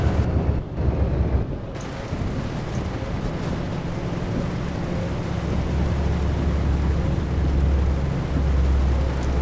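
Steady rain drums on a truck cab while driving in Euro Truck Simulator 2, heading east from Praha to Ostrava, with a low rumbling engine drone underneath; the broadband hiss stays even and continuous throughout, with no voices.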